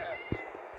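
A cat gives one short meow outdoors on New Year's Day, faint against a steady background hum.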